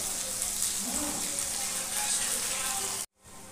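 Bell peppers (capsicum) frying lightly in oil for a mushroom dish, a steady hiss and sizzle under a woman's speech, cutting off abruptly near the end.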